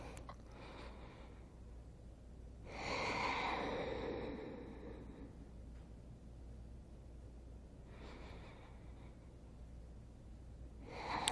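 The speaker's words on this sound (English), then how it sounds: "3 nice big breaths here." Slow, deep breathing during a yoga stretch in a quiet room: one full, audible inhale and exhale, then softer breaths, all faint and close.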